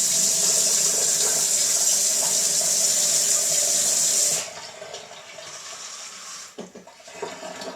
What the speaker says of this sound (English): I'm probably going to just top it up to there with water